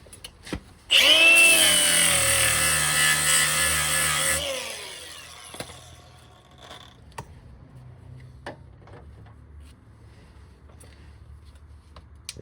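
A flap wheel on a grinder cleaning rust off a Jeep YJ frame to make a ground point, starting abruptly with a loud high whine for about three seconds before spinning down, followed by faint clanks and shop noise.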